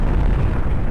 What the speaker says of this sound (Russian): какой эффект взрыва мощный